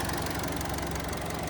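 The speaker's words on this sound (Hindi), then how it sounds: "देखिए अभी इंजन नॉइस आप सुन सकते हैं क्लियरली।" Hyundai Creta SX 1.5 petrol engine idling, a steady, fairly quiet hum with a faint ticking texture, heard briefly on its own.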